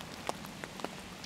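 Light rain patters softly on a back street in North End, with scattered individual drops tapping on a surface against a faint steady hiss.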